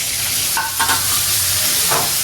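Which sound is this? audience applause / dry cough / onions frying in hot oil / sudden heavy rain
onions frying in hot oil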